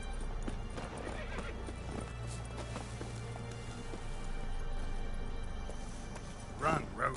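Galloping horse in The Witcher 3 video game, with steady clip-clopping hoofbeats and a sharp whinny near the end, under continuous game sound.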